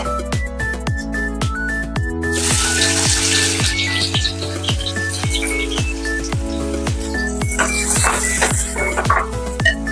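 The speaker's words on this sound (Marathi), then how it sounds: "कांदा चांगला लाल होईपर्यंत परतू." Chopped onion frying in hot oil with cumin, a continuous sizzle under a loud rhythmic tonal background, with scraping stirs throughout and no talking.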